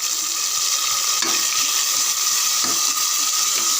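Onions and three tomatoes frying and being stirred in a pan for chicken biryani give a steady, close hiss with scraping stir strokes around the middle and near the end, and no voices.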